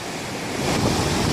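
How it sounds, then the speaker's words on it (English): Wangi Falls in Litchfield National Park pours as a steady broadband roar of falling water, constant and fairly loud, with no voices. "one of the features of Litchfield National Park is its waterfalls. This is Wangi Falls."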